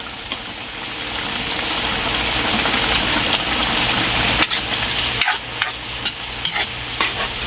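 Vinegar poured into squid adobo in a hot pan sets off a steady, loud sizzle with bubbling and the occasional scrape of stirring, and no one speaks over it.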